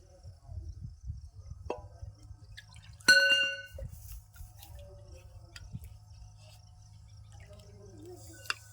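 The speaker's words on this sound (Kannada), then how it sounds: "ಈ ಮಸಾಲೆ ನೀರು ಹಾಕೊಂಡ್ಬಿಡಮ್ರಿ" Faint trickles and drips of spiced water poured into a pan of fish curry gravy, with a brief clink of metal or glass partway through, in a quiet room.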